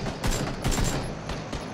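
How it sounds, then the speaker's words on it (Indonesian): Rapid bursts of gunfire in PUBG, several quick volleys of shots crackling close and loud over about two seconds, with no talking. "Oh, gua nembakin tuh kena."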